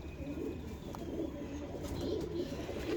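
Pigeons coo in a loft of pearl-spotted birds kept in pairs, a steady low murmur of soft, repeated coos running throughout at moderate distance with no talk.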